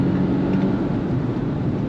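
A 2024 Volvo V60 Polestar accelerating on throttle, heard as a steady, loud low engine drone with dense rumble that holds throughout.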